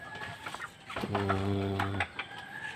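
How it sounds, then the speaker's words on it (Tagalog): Backyard chickens cluck softly, one fuller call standing out in the middle against low background noise. "Ayan yung mga manok ko. Chicken."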